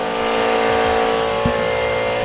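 A Honda S2000 idling in place during a coolant change, a steady engine hum with tonal drone, running alone with no talk and only a brief thump midway.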